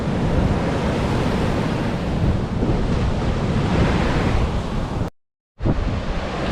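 High ocean surf pounds a Volusia County, Florida shoreline near a boardwalk after Hurricane Nicole, a loud continuous roar of breaking waves with heavy wind buffeting the microphone, cutting out briefly near the end.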